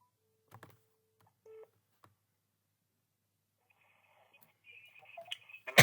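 Telephone keypad being dialed, a few separated DTMF beeps and then a quicker run of tones building toward a louder burst at the end, with no voices.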